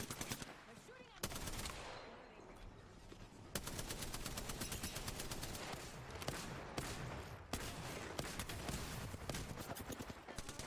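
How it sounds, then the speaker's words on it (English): Rapid enemy gunfire in Apex Legends, dense automatic bursts cracking loud and close almost continuously, broken by a few short pauses. "They're shooting at me."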